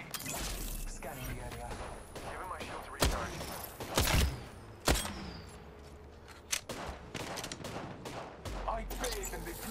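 Gunfire in an Apex Legends match: scattered single shots and short bursts, a few sharp loud cracks standing out, over ongoing game noise and quiet footsteps.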